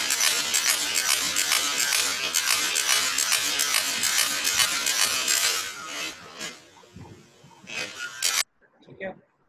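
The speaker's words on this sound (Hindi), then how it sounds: "तो ये जी डेजी व्हील प्रिंटर था" Rapid buzzing, chattering strikes of a daisy wheel printer as it prints, dense and continuous for several seconds, then thinning and stopping abruptly near the end, with a person talking over it.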